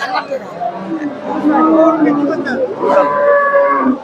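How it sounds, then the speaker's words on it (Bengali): Cows moo repeatedly at a busy cattle market selling Jersey, Friesian and crossbreed cows, their long lowing calls rising over a steady background of crowd chatter and people talking nearby. "এখানে মোটামুটি প্রচুর গাভী আছে"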